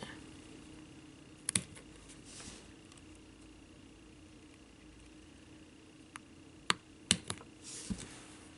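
Scissors trimming the fabric of a handmade sock bunny craft, a few faint, sparse snips and clicks spread over an otherwise quiet stretch, close by.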